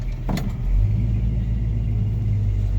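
A car engine fitted with a Quick Fuel 450 cfm Slayer SL-450-VS carburetor runs in gear, a loud, close, low rumbling idle that holds steady after a brief bump, with no voices.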